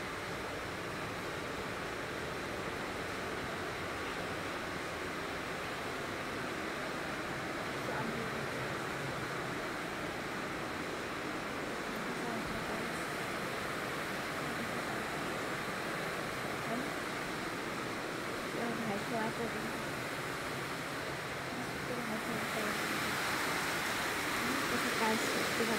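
Steady morning rain falling outdoors near a well, a continuous broadband wash of drops that grows slightly louder near the end, with a voice talking faintly at times.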